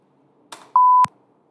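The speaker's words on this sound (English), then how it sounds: "You must have heard the tone." A brief click from a space bar press, followed by a clean, steady electronic beep tone of about a third of a second in a PsychoPy experiment task, ending in a sharp click, close and loud with no talking.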